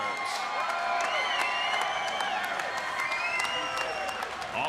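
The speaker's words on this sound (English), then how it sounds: "let's have a round of applause for these 2" Arena crowd at a bare-knuckle boxing event applauds and cheers the two fighters, a loud continuous roar of clapping with whoops and whistles over a steady crowd din.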